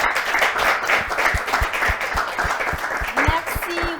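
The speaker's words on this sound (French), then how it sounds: "donc on applaudit" Studio audience applause on a French-language television set after a guest segment on higher education in China, steady clapping under some overlapping talk, with a few sharper nearby claps standing out.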